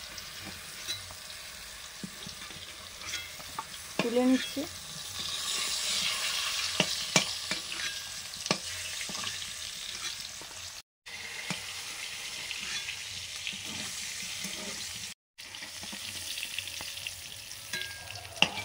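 Pointed gourd (potol), stuffed with meat, sizzles steadily as it fries in hot oil, with spatula scrapes and stirring clatter and a few brief gaps; a short spoken remark passes over the frying.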